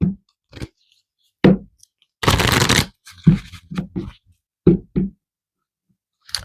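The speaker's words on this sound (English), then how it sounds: "I feel like I need to shuffle a little bit more." Close, crisp bursts of cards being shuffled and tapped, several quick riffles separated by short pauses, with one longer riffle in the middle.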